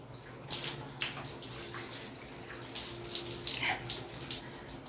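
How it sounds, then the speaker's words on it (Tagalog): Water runs steadily from a shower as people get ready to bathe, a constant hiss with splashy bursts, close and moderately loud, with no talking. "Let's shower."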